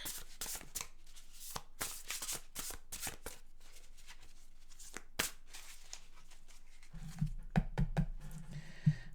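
A tarot deck is shuffled by hand in a series of crisp riffling bursts and card slaps, followed near the end by softer, rhythmic knocking handling of the cards. Close and fairly quiet, with no talking.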